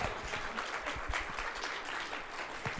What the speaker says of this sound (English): give a round of applause to our amazing panelists